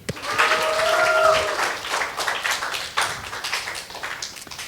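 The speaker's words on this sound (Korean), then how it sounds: "박수." An audience at a Korean church sermon gathering claps in a brief burst that peaks early and then tapers into scattered claps, with a faint whistle-like tone near the start.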